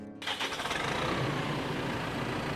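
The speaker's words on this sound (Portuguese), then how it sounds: "Foi com o ronco do trator." A heavy engine cranks and fires up, then settles into a loud, rough, rumbling run close by.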